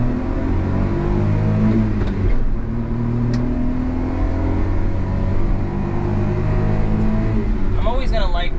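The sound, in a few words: Honda Acty kei truck engine while driving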